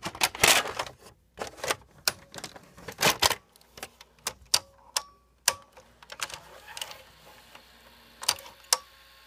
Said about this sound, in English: So I'll put a tape in and you can see what that thing does.